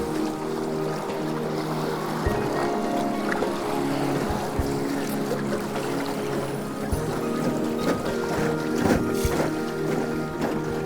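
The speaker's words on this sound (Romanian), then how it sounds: "Foarte relaxant să mergi așa cu barca în liniște." Steady low engine drone of a boat gliding along the river at Tam Coc, Vietnam, with water and wind noise around it and occasional soft knocks, no voices.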